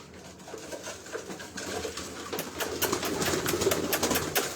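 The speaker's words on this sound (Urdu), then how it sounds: "تو یہ دوستوں کچھ چند ایک کبوتر ہیں." Pigeons coo on a rooftop loft, a soft continuous chorus of low throaty calls that builds louder toward the end, with faint rustling and no talk.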